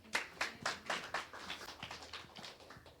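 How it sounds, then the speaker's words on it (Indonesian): A church congregation claps in a steady, even rhythm of about a dozen hand claps, fairly faint and slightly distant, with no voices over it. "Tepuk tangan bagi Tuhan."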